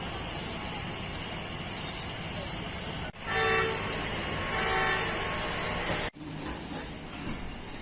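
The Allama Iqbal Express sounds its horn at Sialkot Junction platform: two sustained tonal blasts, each about a second or two long, over a loud steady hum of idling machinery and station noise.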